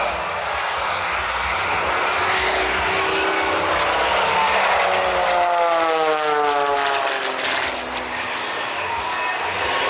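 An aerobatic airplane at an airshow roars steadily overhead as it pulls through a wingover, its engine pitch sweeping and shifting as it passes and returns, loud and continuous throughout.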